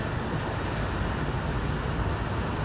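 A car drives through a flooded ford and pushes a wave of water, producing a continuous loud wash and rush of water with a steady roar. No voices are heard.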